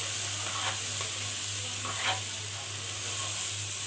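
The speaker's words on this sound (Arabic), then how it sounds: "وهبتدي بقى اشوح كده فيه يعني تشويحتين كده" Rice and onions stirred and sautéed in a frying pan while cooking fish and fisherman's rice, a steady close sizzle with a few soft scraping stirs and no talk.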